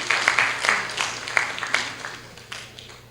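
Scattered applause from a seminar audience at a criminal procedure law event, a few distinct handclaps rising and thinning out over a few seconds, with a low steady hum underneath.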